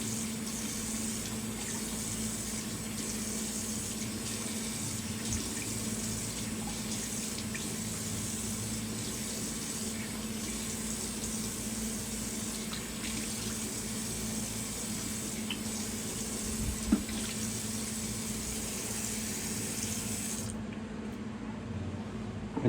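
A cold water tap runs steadily at a sink during rinsing after a wet shave, a loud continuous rushing splash that holds for about twenty seconds before the flow cuts off.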